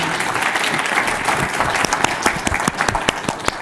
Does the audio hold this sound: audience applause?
yes